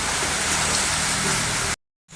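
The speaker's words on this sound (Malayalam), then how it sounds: "ഇപ്പോഴും മഴ പെയ്തുകൊണ്ടിരിക്കുക" Heavy, steady rain pours down in a dense hiss amid flooding in Kozhikode, Kerala, then cuts off abruptly near the end.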